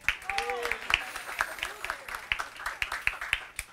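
A small audience at a talk on teaching digital literacy gives a light, scattered round of applause. Individual claps come through fairly faintly beneath ongoing voices.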